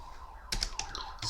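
A few quick clicks of keys being typed on a computer keyboard, close and fairly faint, in short bursts over a quiet background.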